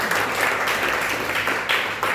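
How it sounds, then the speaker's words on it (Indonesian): A church congregation applauds during a Sunday sermon, a steady wash of clapping from many hands that fills the whole moment at moderate loudness. "Tepuk tangan untuk Tuhan."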